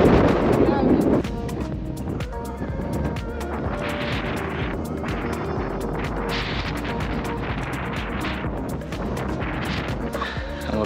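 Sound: wind blowing on mountain

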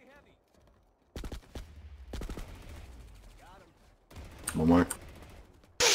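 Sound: gunshots from the video game Planetside 2

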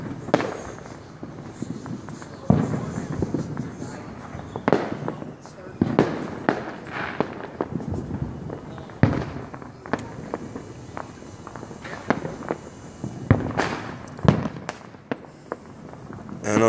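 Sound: cannonball fireworks exploding on the Fourth of July

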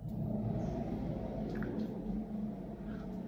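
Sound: resin 3D printer inline ventilation fan at full power

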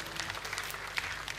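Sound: audience applause

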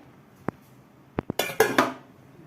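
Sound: lid being put on a pot of chapati dough

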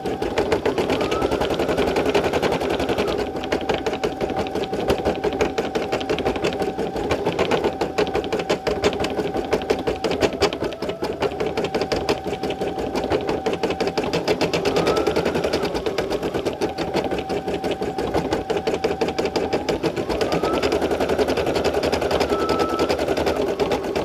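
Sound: Brother SE1900 embroidery machine stitching out a bearded dragon

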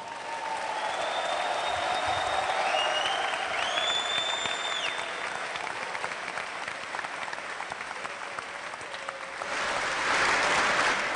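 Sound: audience applause for boxers

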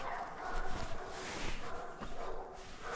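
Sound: livestock guardian dog barking

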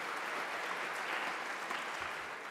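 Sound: audience applauding at a lightning talk

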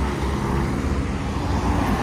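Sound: cars racing past on a road in Kazakhstan

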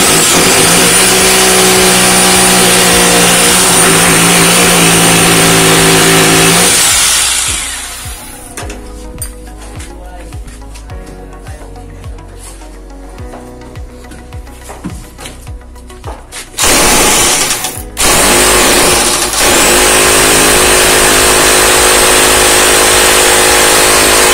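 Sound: power drill boring holes for window grills

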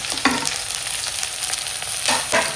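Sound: onions and curry leaves frying in oil

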